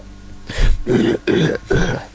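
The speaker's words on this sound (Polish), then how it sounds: "zaraz będę kaszlał" A man coughs and clears his throat several times in quick succession, close and loud, four rough bursts within about two seconds.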